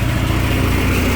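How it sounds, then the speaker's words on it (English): An RV generator engine runs at a steady, loud, close drone with a busy mechanical rattle and puffing exhaust, with no voices. "get the generator to start up remotely without the electric choke"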